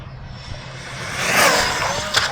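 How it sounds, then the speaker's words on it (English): An Rlaarlo SBK10 RC buggy on a 4S battery with a larger gear rushes past at speed, a rising whoosh and whine that swells to a loud peak, then drops away with a brief sharp burst near the end. "here it comes. Rlaarlo SBK on 4S with a larger gear"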